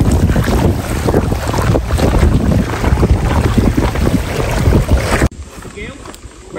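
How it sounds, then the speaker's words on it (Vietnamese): Strong wind buffets a boat at sea, a loud, constant roar of gusts and microphone wind noise with water sounds beneath, dropping off suddenly near the end. "Gió đang rất là to luôn."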